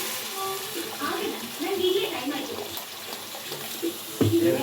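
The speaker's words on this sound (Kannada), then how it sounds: "ನೀರು ಹಾಕ್ಕೊಳ್ಳಿ" Water poured into a pan of fried tomatoes for an egg curry, a soft continuous splashing and gurgling close by, ending in a brief sizzle.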